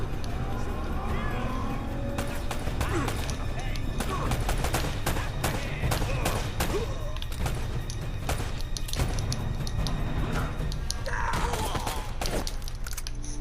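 Gunfire and combat in Uncharted: Drake's Fortune, with dense bursts of rapid shots, automatic weapon fire and impacts crackling continuously, loud and close, while a voice speaks intermittently over the fighting.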